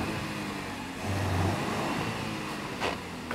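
A Lexus LX 570 SUV reversing, its engine a low steady hum that rises briefly as it moves back, close by, with a short sharp noise near the end.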